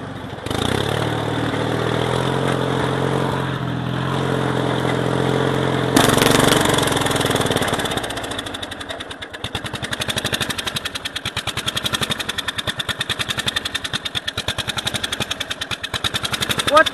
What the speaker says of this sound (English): Let's see what this mower does here.